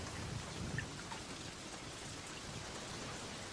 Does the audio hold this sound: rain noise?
yes